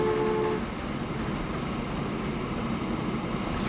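A crude oil freight train in the video game Transport Fever rumbles along the track, a steady low mechanical roar with a brief horn-like tone at the start and a higher whistle near the end.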